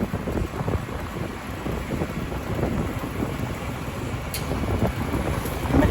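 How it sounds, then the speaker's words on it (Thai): Gusty pre-storm wind roars steadily on an open route between rural Lao villages, a constant broad rumble buffeting the microphone with no clear thunderclap standing out. "บรรยากาศก่อนจะพายุเข้านะคนเนาะถ่ายบรรยากาศให้คนได้ดู"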